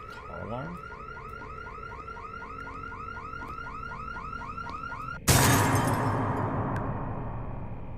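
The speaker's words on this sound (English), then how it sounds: "Car alarm?" A car alarm in a video game cycles through repeating electronic whoops, then cuts off abruptly under a sudden loud burst of noise that slowly fades.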